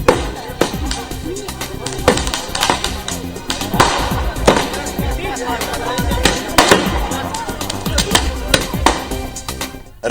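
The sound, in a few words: fireworks set off in front of BJP office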